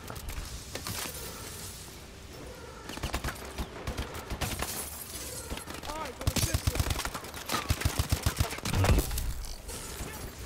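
Futuristic gunfire in the shooter Call of Duty Advanced Warfare, during a bio lab mission: bursts of rapid shots and sharp impacts, growing denser and louder toward the end, with a voice speaking at times.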